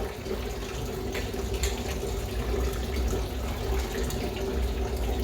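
Grape leaves being rinsed under a steadily running tap, with a continuous close splash of water into a sink and no talking.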